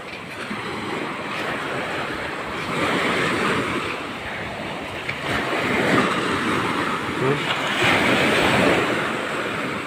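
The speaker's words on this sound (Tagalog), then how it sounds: "Malakas ang alon." Strong ocean waves crashing and surging continuously against a shore where small boats are moored, with rough wind buffeting the microphone throughout and no voices.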